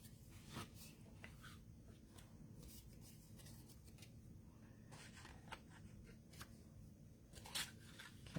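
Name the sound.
scissors cutting white paper for penguin body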